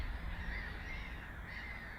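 Black-headed gulls giving harsh, raspy calls that overlap in a faint, distant squabble.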